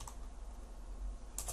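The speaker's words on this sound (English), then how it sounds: "let's type this out into Eclipse" Soft, quick keystrokes on a computer keyboard while code is typed, a short faint burst of clicks close to the microphone with a brighter tap near the end.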